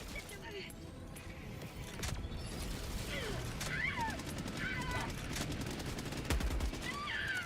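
A mounted gun fires in Helldivers 2, a loud ongoing clatter of shots and mechanical clanks over steady game background noise, with occasional sharper bursts.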